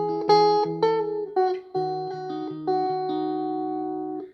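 Guitar picks out the bridge of a song as a handful of plucked notes and chords, each attack ringing and fading. Close and clean, with no talk.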